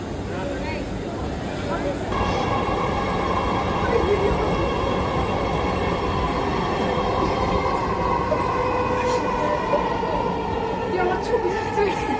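A Dhaka metro rail train bound for Agargaon runs along in a continuous close rumble with rattling wheels and occasional faint squeals, its loudness steady and rising slightly after the first couple of seconds.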